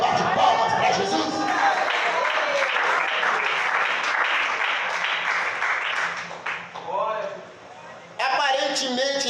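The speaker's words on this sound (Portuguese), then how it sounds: "A igreja bate palmas para Jesus." A church congregation applauds during an evangelical sermon, with loud, continuous clapping mixed with voices and cheering. The clapping thins out briefly near the end before the voices come back strongly.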